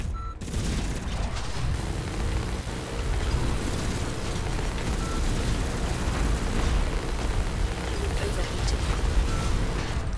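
Mech turret in the online shooter Hawken firing in a sustained, dense barrage of rapid bursts, loud and continuous with heavy rumbling impacts throughout.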